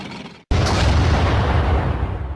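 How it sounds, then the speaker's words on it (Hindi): A tank fires and blows up a stone: after a brief silence, a sudden loud boom hits and rolls into a long rumbling decay that slowly fades. "सुनो, उस पत्थर को टैंक से उड़ा दो।"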